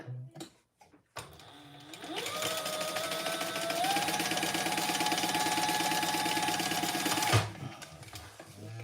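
A Bernina sewing machine stitches fabric closed, starting after a few clicks, ramping up into a fast, even mechanical whir for about five seconds, then stopping with a clunk.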